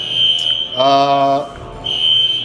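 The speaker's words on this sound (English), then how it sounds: "They're testing the alarm" Building fire alarm under test: a loud, steady high-pitched electronic tone sounds alone, breaks for a harsher buzzing blast, then returns to the same continuous tone.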